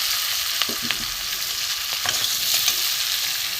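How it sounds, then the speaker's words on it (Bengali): Onions and potatoes fry in a pan, a loud, steady sizzle close by with a few scraping stirs, heard alone without talk. "পেঁয়াজটা মোটামুটি ভাজা হয়ে গেছে আলু দিয়ে দেবো"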